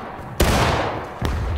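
Musket fire in War of Rights, a Civil War battle game: two loud, close volleys crack out a little under a second apart, each one trailing a long rolling echo.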